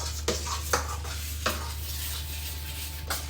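Spices and yogurt being stirred into chicken in a metal pot, a few sharp spoon clinks against the rim over a soft scraping stir and steady low hum.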